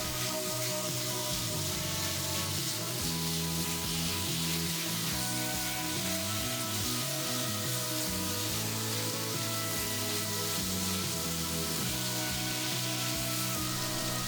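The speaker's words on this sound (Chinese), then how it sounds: "先放洋葱， 炒香以后加入鸡片翻炒。" Onion and chicken slices stir-fry in hot oil in a wok, a steady loud sizzle running continuously throughout with no talk over it.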